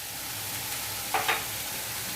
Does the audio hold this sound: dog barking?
no